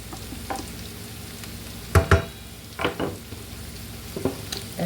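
Onions cooking down in a pan for beef, cheese and potato empanadas give off a steady low sizzle, with a few louder bursts of stirring and scraping in the middle and a softer one near the end.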